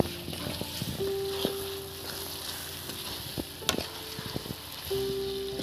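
Chicken do pyaza cooking in a pan: a continuous soft sizzle and frying hiss under scraping and stirring clatter, with a couple of sharp metallic knocks and a faint sustained hum through parts of the clip.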